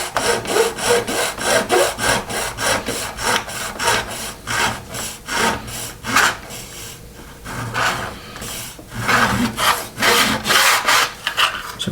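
Cutting parts off an Airfix 1/72 Avro Vulcan plastic model kit, a close, rhythmic rasping stroke repeated back and forth in steady bursts with short pauses.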